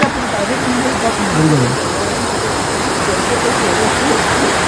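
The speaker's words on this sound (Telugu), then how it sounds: "ఇక్కడ వాటర్ ఫాల్ లెక్క ఉంది, ఇక్కడ చూసుకోవచ్చు." A waterfall at Kodaikanal roars as loud, continuous broadband rushing water, with brief muffled sounds over it and no clear speech.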